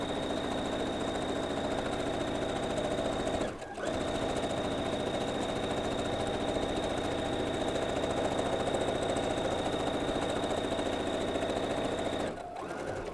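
Sewing machine stitching binding onto a quilt, a steady fast mechanical whir and needle rhythm running continuously, pausing briefly twice, close and loud.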